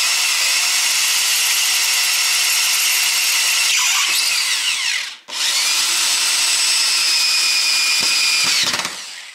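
A power drill bores through slate roofing sheet with a loud, steady high-pitched whine, briefly dipping as the bit catches, then grinding on before stopping.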